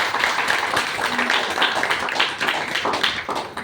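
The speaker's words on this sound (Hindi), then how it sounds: "एक जोरदार ताली बजाइए" Audience applause at a Hindi-language talk, a dense, steady patter of many hands clapping that fills the whole stretch at moderate loudness, with no voices standing out.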